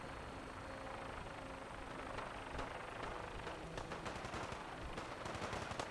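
Fallout 4 gunfire aimed at a vertibird, a dense continuous rattle of automatic shots over a steady engine drone, loud and sustained throughout.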